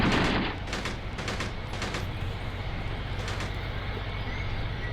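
Bursts of machine-gun fire in Graviteam Tactics, set in an African tank battle: several short, sharp volleys spaced through the opening seconds, then a steady low rumble of battle underneath.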